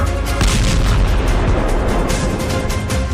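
A large artillery gun of the M777 type fires 155 mm shells, heard as a loud, continuous rumble of booms and bursts with no voices.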